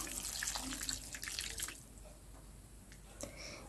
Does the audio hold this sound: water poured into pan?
yes